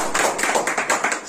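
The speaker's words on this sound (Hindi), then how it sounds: "तो जोरदार ताली से इनका स्वागत।" A small group in a room gives quick, close, rhythmic applause to welcome a selected Agniveer candidate, a short burst of claps.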